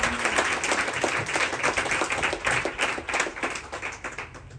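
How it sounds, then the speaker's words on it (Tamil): Loud, dense clapping from an audience at a charity event, a steady crowd applause with sharp individual claps that fades slightly toward the end. "பாஸ்டரோடு சேர்ந்து பலத்த கரகோஷம் ஒன்று கொடுத்தும்"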